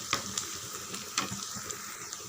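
Onions and curry leaves sautéing in a pan for a kara kuzhambu, giving a quiet steady sizzle with a few sharp crackles and stirring scrapes spread across the moment, no talking.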